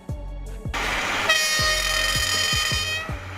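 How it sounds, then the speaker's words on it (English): A rail bus, a bus-like railcar, rolls along the track with a rhythmic clunk of wheels over rail joints. Its horn blasts loud and close partway through, then the clacking carries on under it. "Rail bus, a bus-like vehicle that runs on railway tracks"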